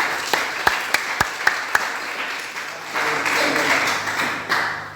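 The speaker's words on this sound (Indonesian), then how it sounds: "Tepuk tangan saudara." Church congregation applauding during a sermon: a handful of sharp, separate loud claps open, then a denser wave of clapping swells and continues, with voices mixed in.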